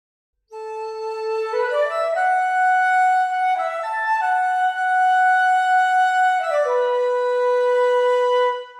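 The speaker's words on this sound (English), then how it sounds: "Then on the bottom row we have the same articulations again, but doubled in octaves with the flute" Sustained woodwind notes played smoothly in octaves, flute on top, moving legato through a slow phrase of connected pitches, clean and close with no talking.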